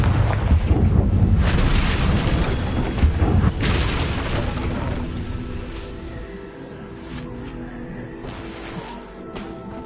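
A Confringo blasting spell explodes in Hogwarts Legacy with heavy booming blasts and crackling bursts up front, then a long rumbling tail that slowly fades away.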